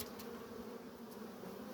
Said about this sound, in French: les abeilles sont en pleine activité en ce moment